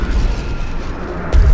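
The Icarus landing system impacting in Deus Ex: Human Revolution, a heavy, loud, deep rumble that swells into a stronger thud near the end, with no voices.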